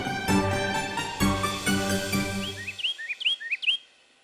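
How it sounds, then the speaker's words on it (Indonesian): A murai (magpie-robin) songbird sings a quick series of bright, whistled chirps and rising notes, close by, starting under a louder humming backdrop that fades away. "Cakep banget Dani Murai. Udah juara mulu."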